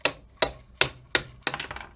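Five sharp metallic hammer taps, evenly spaced about a third of a second apart, knock a part out while a Browning Auto 5 shotgun is being reassembled; close and fairly loud, with a brief ringing tail after each strike and no talk.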